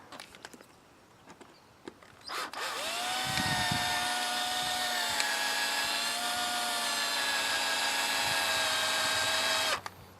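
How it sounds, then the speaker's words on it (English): A small bit bores a pilot hole into a center-punched dimple while replacing the wood seat base on a Club Car DS golf cart; the power drill whines steadily and loudly for about seven seconds, with no voices. "try and get a dimple started with the small drill bit"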